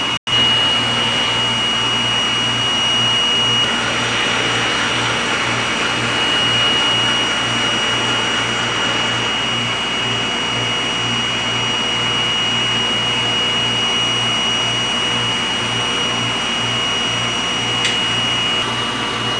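A DTF printer running a print head cleaning cycle, a loud, steady whirring drone with a pulsing low mechanical hum and faint high whine, continuous and close with no talking.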